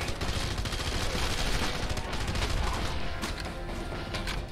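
Rapid assault rifle gunfire in the video game Red Faction Guerrilla, with dense sustained bursts of loud shots that continue almost without a break.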